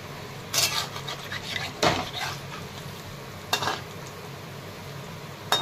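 Onion bhaji frying in hot oil in a pan: a steady close sizzle and hiss, broken by a few sharp clinks and scrapes of a utensil against the pan.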